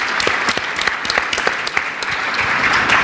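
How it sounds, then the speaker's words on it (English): A conference audience claps for a panel at a development dialogue event in Istanbul, steady close applause with crisp individual claps throughout, no talking over it. "Please join me in giving a round of applause to this panel."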